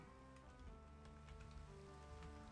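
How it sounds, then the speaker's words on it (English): Rain falls steadily in Minecraft, a soft continuous patter of drops on surfaces, very faint and mixed with quiet game music, with no voices. "Oh, now it's a rainy day."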